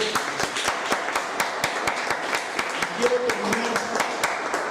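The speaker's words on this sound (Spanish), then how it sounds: "Le pongo un aplauso fuerte al Dios de la gloria." A church congregation applauds steadily, with clear individual hand claps over a continuous wash of clapping, and a voice speaking briefly partway through.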